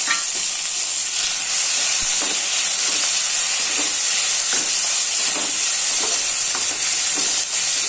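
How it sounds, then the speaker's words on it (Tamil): Onion, tomato, coconut and curry leaves being stirred and fried in a pan for a roasted-ground crab gravy, a steady close sizzle with light scraping stirs throughout, no talk. "எல்லாத்தையும் நல்லா ஒரு தடவை கலந்து வதக்கிக்கிட்டு ஆற வச்சுக்கேன்"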